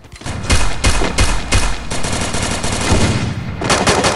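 Rapid bursts of automatic gunfire in the Free Fire battle royale video game, loud and dense with repeated volleys over a few seconds and no talking.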